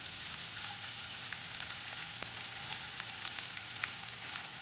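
Garlic, ginger and onion fry in a pan as a base for baby corn Manchurian, giving a steady, dense sizzle with scattered crackles and pops throughout, close and continuous with no talking.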